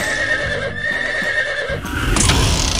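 A horse in a children's animal cartoon gives a loud, close whinny, with hoof clip-clops alongside. A brighter burst of sound follows near the end, and no one speaks.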